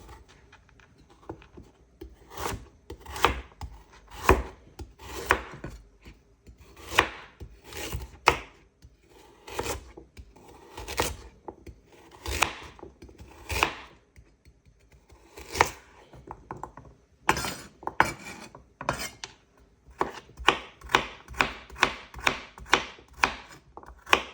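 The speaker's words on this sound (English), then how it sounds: "Now I'm just gonna roughly chop the carrots." A knife chops carrots repeatedly on a cutting board in uneven bursts of sharp thuds, close up, speeding into a quick run of cuts near the end.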